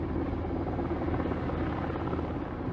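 A Royal Navy anti-submarine helicopter drones steadily, its rotor chop forming a continuous mid-level throbbing hum that stays even from start to finish.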